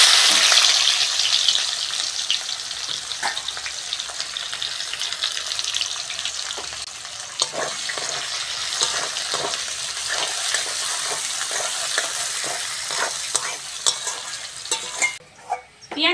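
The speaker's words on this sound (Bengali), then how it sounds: "প্রথমে কুচিয়ে রাখা পেঁয়াজটা দিয়ে দেবো।" Chopped onion frying in plenty of oil left over from frying fish, with a loud, continuous hiss and crackle up close and scattered stirring clinks throughout.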